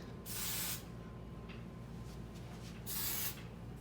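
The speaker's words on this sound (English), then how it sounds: "So we tend to to spray them down with hairspray. And the cheap aerosol kind is usually the best." Cheap aerosol hairspray is sprayed onto hair in two short hissing bursts about two seconds apart, close and fairly soft against a quiet room.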